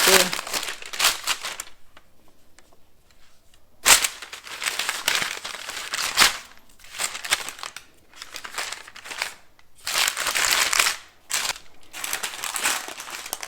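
Parchment paper is crumpled and crushed up close in loud repeated bursts of crackling, separated by short pauses.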